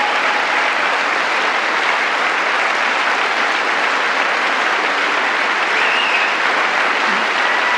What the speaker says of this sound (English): Mike Johnson is clapping for the Ukraine bill